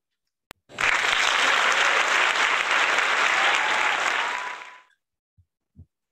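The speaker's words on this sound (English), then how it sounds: "Wow, that was quite an applause." A lecture audience bursts into loud, steady applause at the close of a talk on artificial intelligence, sustained for about four seconds before tapering off, followed by a couple of faint knocks.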